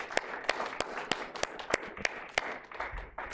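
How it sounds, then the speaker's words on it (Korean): A congregation at a church service claps together in thanks, a steady broadband patter punctuated by louder sharp claps about every third of a second, fairly close and continuous, fading slightly toward the end. "이 시간 그 예수님께 감사의 박수를 올려주시면 좋겠고요."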